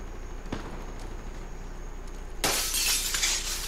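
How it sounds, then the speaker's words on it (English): In the shooter game Black Ops 3, ambient game noise with soft thumps and footsteps gives way to a sudden loud burst of shattering glass that rings and sprinkles for over a second. "So I just break the glass."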